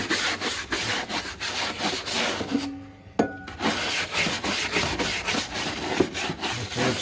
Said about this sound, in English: I just take an old scrub brush that I have and just scrape out as much as I can.